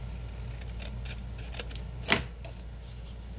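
Scissors make a single short snip through paper while a pocket booklet is trimmed from 12x12 paper, a close crisp cut in an otherwise quiet room.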